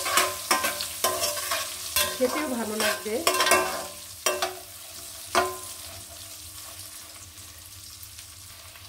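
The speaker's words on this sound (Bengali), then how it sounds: "এটা আমি ভেজে নিব" Koi fish sizzles in a frying pan while a utensil scrapes and knocks against it in sharp clinks and stirring strokes; someone talks briefly over the steady frying, which fades to a quieter hiss.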